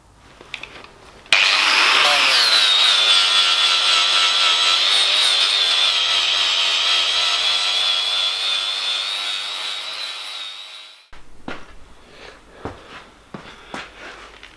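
An angle grinder linishing steel for an offroad drift trike whines loudly and continuously for about ten seconds, its pitch sagging slightly under load before it cuts off, followed by a few clanks and knocks of metal.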